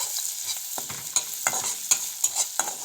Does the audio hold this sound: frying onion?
yes